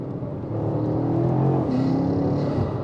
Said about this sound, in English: the exhaust note is shadowed by the induction noise